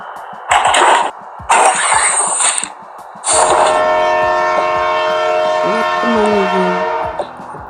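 A train departing in the video game Toca Boca World sounds two short, loud horn blasts, then a longer sustained horn tone over a rolling rail rumble, with faint squeals as it pulls away.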